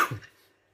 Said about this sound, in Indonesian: Batuk gua kok masih belum hilang ya?